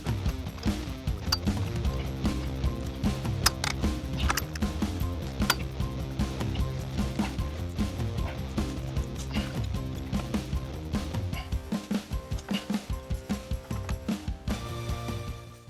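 A jack handle works on stubborn lift kit bolts of a 2000 Ford F250, a dense run of metallic clanks and ratcheting clicks that ends in a fast rhythmic series of clicks.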